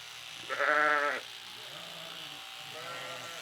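A single loud, wavering bleat from a nearby sheep during lambing season on a farm in Killingly, Connecticut, followed by quieter farmyard background and a faint second call.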